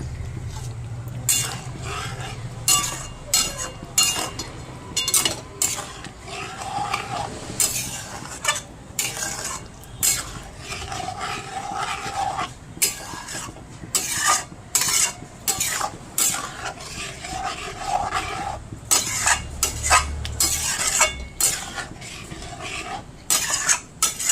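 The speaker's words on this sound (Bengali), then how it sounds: "কষতে কষতেই মাংসটা সেদ্ধ হয়ে যাবে।" Chicken for chicken kosha being sautéed and stirred in a pan with a little water, a steady low sizzle under frequent scraping and clinking strokes of a spoon against the metal, close and continuous.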